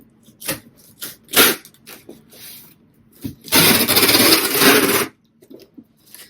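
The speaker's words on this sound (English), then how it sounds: "Warning, loud tape noise." A few short scraping rustles, then a loud, harsh ripping screech of packing tape unrolling for about a second and a half, close to the listener.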